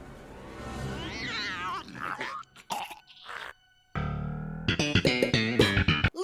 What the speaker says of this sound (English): listen to that meow